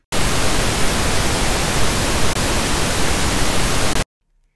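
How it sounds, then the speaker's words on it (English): Pink noise test signal soloed in a mixing session, a steady loud broadband hiss with a slightly darker, fuller low end, running unbroken for about four seconds before cutting off. "if I set this up and I solo that pink noise"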